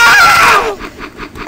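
A child character in the video game Happy Wheels lets out a loud, shrill scream that lasts under a second, then drops to quieter game noise.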